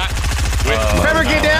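Rapid gunfire in Fortnite, a steady burst of automatic shots that rattles loudly throughout, with a voice talking over the firing.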